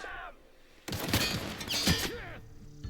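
Gunfire in the video game The Outer Worlds, a burst of sharp shots and crashing impacts after a brief quiet moment, loud and dense, with in-game vocal sounds mixed in.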